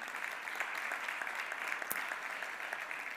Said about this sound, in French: On peut les applaudir pour cet argent.